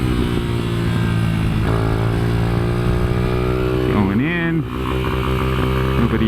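A highly modified Kayo MR125 motorcycle is ridden around the Katy Kart Track, its engine droning loud and close with a steady high whine, dipping briefly as the revs drop and then climbing again.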